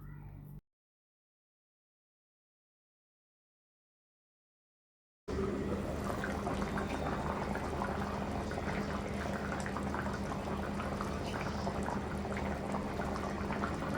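A covered pot of chicken masala curry simmers for a traditional Kerala dish. After a brief sound and a long stretch of silence, a steady, soft bubbling and hiss begins and continues evenly to the end.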